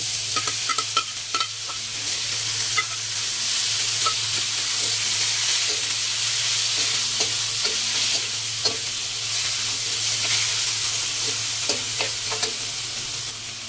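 Stingray pieces hitting a hot pan of coconut milk with chili for ginataang pagi, a steady close sizzle and bubbling with scattered stirring scrapes and clicks throughout.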